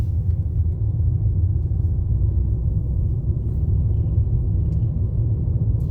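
A Ford EcoSport Titanium with the 1.5 Ti-VCT petrol engine accelerates in gear, heard from inside as a steady, loud low rumble of engine and road noise with no talking.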